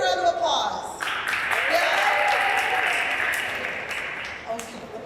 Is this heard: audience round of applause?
yes